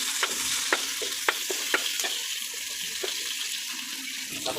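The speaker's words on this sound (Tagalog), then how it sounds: "Ito na naman yung gisahin natin. Ito. Yung bawang." Garlic sizzling in hot cooking oil as it is sautéed for a vegetable stir-fry, a steady broadband hiss with occasional sharp crackles and stirring clicks, close and continuous with no talk.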